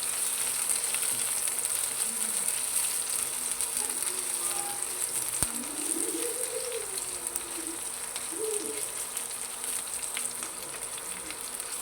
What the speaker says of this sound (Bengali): এখন পেঁয়াজ কুচিটা আমি এরকম লাল লাল করে ভেজে নিচ্ছি